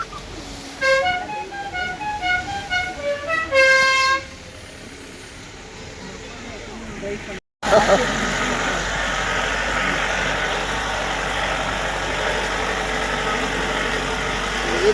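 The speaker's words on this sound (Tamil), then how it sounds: "ஜீப்பில் நாங்கள் முதல் டைம் ஆஃப் ரோட் டிரைவ் போறோம்" A jeep on an off-road drive, a steady loud engine rumble starting midway after a break, with a horn-like tonal sequence sounding early on and voices talking nearby.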